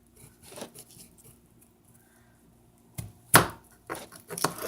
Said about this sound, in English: I usually cut off the edges.